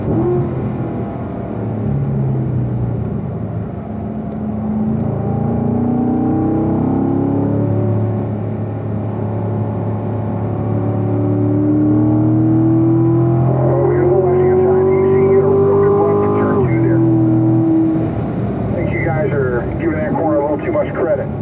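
A car lapping Spring Mountain Raceway drones steadily from inside, its engine note rising in pitch through a long pull before dropping sharply on a downshift, with talk running over it throughout.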